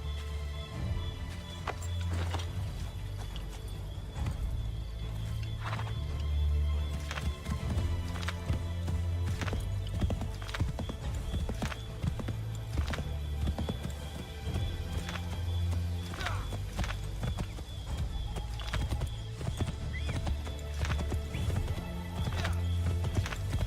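Horse hooves clip-clop steadily in Assassin's Creed III, a continuous rhythmic gait with a few whinnies, over a low rumbling game soundtrack with occasional sharper hits.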